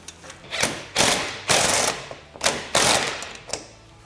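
A windshield clamp on a Polaris Ranger XP 1000 is tightened with a tool, giving six or seven close, loud mechanical ratcheting bursts in an uneven rhythm.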